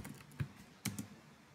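A few soft keystrokes on a computer keyboard, close but faint, with a quick uneven tapping rhythm and no talking.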